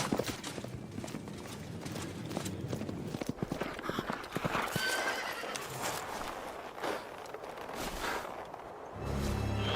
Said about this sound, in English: You must have seen the white horse gallop past here.